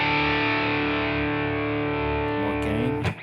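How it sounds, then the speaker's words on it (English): A distorted electric guitar chord, back pickup, through a distortion pedal into a Joyo American Sound pedal, rings out with thick, saturated sustain, then shifts and breaks off with a few scratchy notes at the end. "what would happen if you were to use a distortion pedal in front of it"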